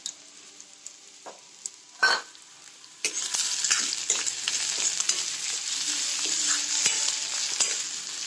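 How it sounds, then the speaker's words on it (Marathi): Jowar papdi roasting in a dry pan with a little salt: a few light taps at first, then a continuous hissing, crackling rattle under steady stirring. "चांगला भाजून घ्या बघा, कच्चा ठेवू नका."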